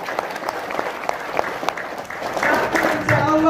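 A training-session audience breaks into applause, a fairly close, dense clapping that swells toward the end, with a voice talking over it.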